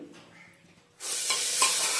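Onions hit hot oil in a pressure cooker during pork cooking, a sudden loud sizzle bursting in after a quiet second and holding steady with stirring scrapes, no talking.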